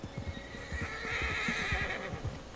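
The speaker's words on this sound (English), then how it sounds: "What's wrong with this horse?" A horse in Red Dead Redemption 2 lets out a long, fairly close whinny while its hooves clop in a quick, steady rhythm underneath.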